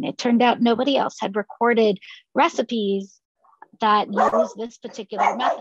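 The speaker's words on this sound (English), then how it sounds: "Oh, sorry for the dog." A dog barks and yips in a room, its sharp calls mixed in with someone speaking steadily right up close to the microphone.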